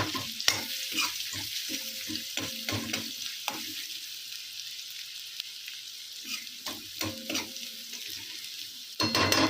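Onions for palak dal fry in a pan while being stirred, a soft sizzle under repeated scraping and clinking of a utensil against the pan in irregular bursts.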